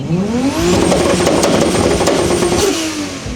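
At a Kyiv car festival, a car engine revs hard and close, its pitch climbing and holding high in a loud, sustained roar before easing off near the end.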